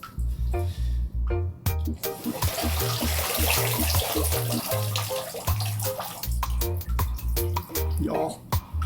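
Water splashes and trickles from a makeshift pool leaking in a dorm room, a continuous wet rushing sound with drips, heard under people talking and background music.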